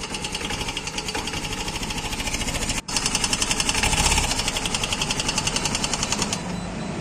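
A Yamaha Mio Gear scooter engine runs with a fast, buzzing rattle, briefly cutting out before catching again and revving slightly, loud and close.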